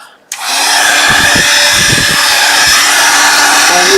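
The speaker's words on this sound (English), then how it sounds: "get my noisy iron out." A noisy craft heat tool used on a Christmas card switches on and runs as a loud, steady close-up whoosh of blowing air with a faint whine, no talking.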